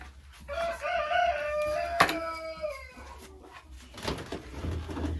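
Chickens in a coop at a country dacha, a rooster-like crow followed by drawn-out squawks and clucks, close and fairly loud, with a low hum of background noise underneath.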